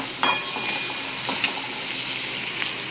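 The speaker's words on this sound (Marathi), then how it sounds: "अशा प्रकारे कांदा इथे आपल्याला भाजायला लागलेला आहे कांदा आपल्याला चांगलासा भाजून घ्यायचा आहे तेलामध्ये" Sliced onion fries in hot oil in a home kitchen, a soft steady sizzle with occasional light crackles and stirring clicks, close and fairly quiet, with no talking.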